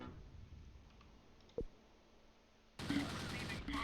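Gunfire in the Close Combat Last Stand Arnhem game: one sharp shot stands out midway over a quiet bed, then a denser, louder burst of battle noise and rapid firing takes over near the end.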